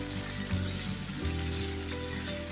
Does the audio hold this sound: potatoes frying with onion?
yes